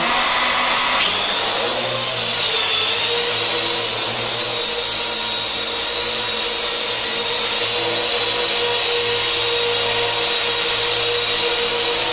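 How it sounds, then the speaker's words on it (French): A small Parrot AR.Drone quadcopter spins up after a second into a loud, steady high-pitched whir of rotors that holds evenly, close by, with no talking. "ça fait un gros bruit de ventilateur, comme vous pouvez le voir, de très gros ventilateur"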